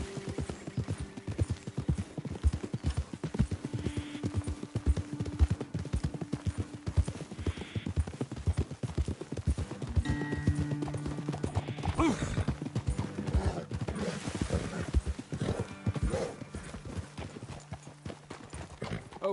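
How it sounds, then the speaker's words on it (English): Horse hooves in the video game Red Dead Redemption II clip-clop steadily at a walking pace along an outdoor trail, with close footfalls repeating throughout over a soft game ambience. "Best leave the horses back a bit"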